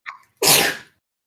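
A student sneezes once into an open microphone during an online class, a short quiet intake followed by a loud, sharp, breathy burst that is close and clipped.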